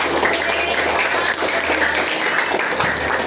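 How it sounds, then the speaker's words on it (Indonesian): A classroom of students applauds, sustained dense clapping filling the room steadily at moderate loudness for the whole span, with no one speaking over it. "beri aplaus untuk kelas"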